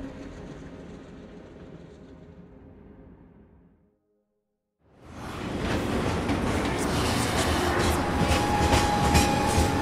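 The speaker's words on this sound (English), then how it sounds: "Like this train, I suppose." A train running on rails in the video game Final Fantasy VII Remake: a rolling rumble fades to brief silence, then returns louder as a steady clattering roar with a thin whine over it.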